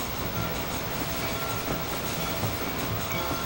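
A train rolls along the tracks in the game Red Dead Redemption, a continuous rumbling clatter with faint rhythmic clicks, steady and fairly loud throughout with no talk.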